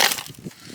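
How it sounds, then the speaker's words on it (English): Brief crunching and crackling underfoot or by hand inside a junkyard Land Rover LR3, a quick sharp burst followed by a few softer gritty crunches of broken glass, close and short. "Oh, crunchy. Glass in there clearly."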